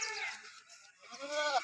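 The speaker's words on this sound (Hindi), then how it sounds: "माशाल्लाह, 12 बकरियों की लाट है।" Goats at a goat farm in Dera Ghazi Khan, Pakistan, give a couple of close, wavering bleats, the second longer and rising, with a voice mixed in.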